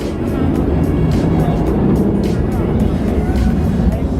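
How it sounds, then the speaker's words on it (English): A modified car with a race-style exhaust at the SEMA 2019 show, a loud continuous low rumble with rough pulsing, close by, with crowd noise and voices around it. "This exhaust is like a full race car."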